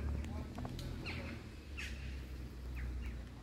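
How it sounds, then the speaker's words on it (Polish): Birds in a park give a few faint, scattered chirps and squawks over low background rumble, with a voice briefly heard. "Ptaszki tam gdzieś, nie wiem, czy ptaki będzie widać."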